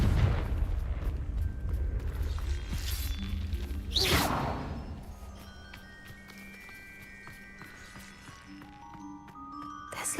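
A Confringo fire spell explodes in Hogwarts Legacy, a loud whooshing burst that rises to a peak and then fades into lingering rumble with faint tonal game effects.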